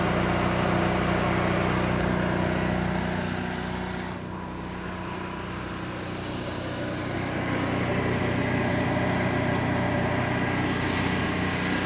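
A 4,000 watt generator mounted on a 2015 Forest River Forester 2701DS motorhome runs at a steady hum, a constant close engine drone with a slight dip in level midway.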